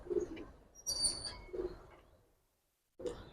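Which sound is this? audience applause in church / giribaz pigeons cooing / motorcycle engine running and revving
giribaz pigeons cooing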